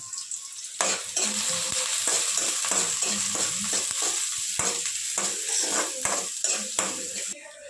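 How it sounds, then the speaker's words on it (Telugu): Chopped onions and green chillies frying in a pan for baby corn manchurian. A steady, close sizzle runs throughout under repeated spatula scrapes and metal clinks, with no talking. "కట్ చేసి పెట్టుకున్న ఎర్రగడ్డ పచ్చిమిరపకాయలు వేసుకుందాం ఇప్పుడు వీటిని మనం ఫ్రై చేసుకుందాం"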